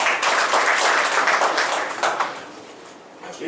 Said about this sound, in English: Let us give a big round of applause to all of you